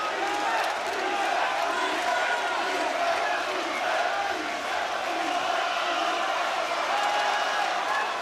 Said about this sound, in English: The crowd roaring on the support for Frampton.